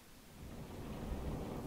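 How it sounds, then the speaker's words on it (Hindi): Rain and rumbling thunder in the video game God of War, a steady low roar of rainfall with deep thunder swelling slightly toward the end, continuous and fairly quiet with no voices. "अबे ये क्या बारिश वारिश शुरू हो गई भाई यहाँ तो?"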